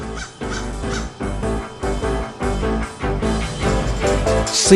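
Crows cawing loudly and repeatedly in a forest in China, harsh calls coming in quick bursts from several birds nearby.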